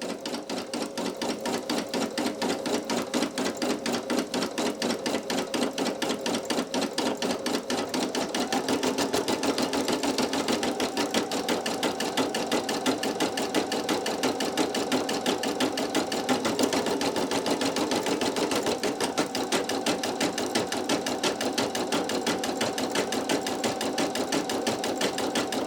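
A Brother PE800 embroidery machine stitches underlay on a towel, a steady rapid needle chatter running continuously throughout, close and fairly loud, with a slight rise in pitch and level partway through.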